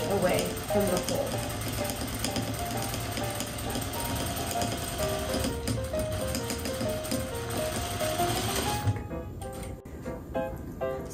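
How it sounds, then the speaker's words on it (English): A sewing machine runs steadily while it stitches decorative trim onto a pillow, a close, even, fast mechanical whir that holds for most of the span and then stops near the end. "I'm making sure that my stitch is about 1/8 of an inch away from the fold."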